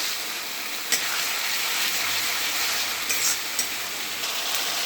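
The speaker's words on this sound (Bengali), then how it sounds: "তার জন্য ভালো করে কষে নিতে হবে মশলাটাকে" Spice paste with dried red chilli sautés in a pan for a rohu fish curry, a dense, steady sizzle close by broken by a few sharp scraping stirs, no talking.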